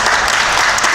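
A crowd applauds the players at an amateur football match between Myśliwiec Gostycyn I and Olimpia Unia IV Grudziądz, a loud, dense, continuous patter of many hands clapping close by.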